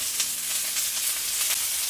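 Tekirdağ meatballs frying in an oiled pan give off a loud, continuous, close hiss and crackle with brief sharper pops, no talk.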